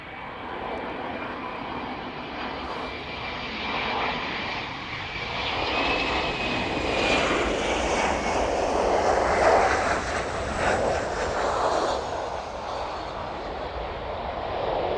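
A West Atlantic Boeing 737-400 arrives at East Midlands Airport in the evening, its engine roar swelling and peaking midway, with a whining tone drifting across, then easing slightly as it passes.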